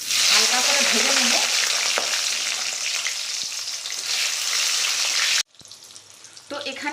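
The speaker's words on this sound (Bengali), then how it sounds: "দেখো এবার আমি সর্ষে ফোড়ন দেবো 1 টেবিল চামচ, 3টে শুকনো লঙ্কা দিয়ে দেবো, একটা গোটা টমেটো মানে 5 ফালি করে নিয়েছি, এরম করে হালকা করে ভেজে নেব।" Mustard seeds, three dried red chilies and tomato wedges fry in hot oil with a loud, dense, crackling sizzle. It cuts off abruptly to a much quieter simmer with occasional light stirring.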